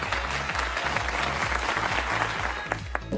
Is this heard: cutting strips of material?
no